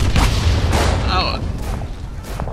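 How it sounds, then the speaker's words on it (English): Booming mortar explosions in the World War I shooter Verdun, loud, low and rumbling, layered with heavy battlefield noise and a voice speaking over it. "Those damn mortars, every time."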